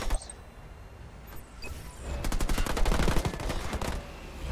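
Automatic gunfire in Halo Wars 2, a multiplayer real-time strategy battle: scattered shots at first, then a dense, loud rattle of rapid bursts over the last half, with no talk.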